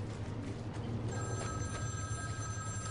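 A telephone ringing in the Batman Arkham City video game, a steady electronic ring over a loud constant low hum and game ambience.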